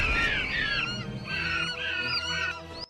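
Shrill, honking bird screeches from the attack scene of the movie Birdemic come in loud, repeated squawking bursts that overlap and rise and fall without pause.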